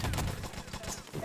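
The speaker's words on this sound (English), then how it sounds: "one pop there from Squiz though with the Luger" A single quick Luger pistol shot rings out in the game Enemy Territory during a competitive match, a sharp pop amid other gunfire, with a commentator talking over it.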